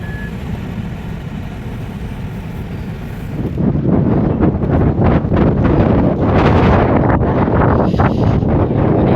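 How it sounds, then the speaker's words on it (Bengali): Strong wind at South Stack lighthouse on a sunny day buffets the microphone with a loud, continuous low roar that grows heavier partway through, gusting in uneven bursts with no voices. "সানি ওয়েদার হলেও হাওয়াটা প্রচুর।"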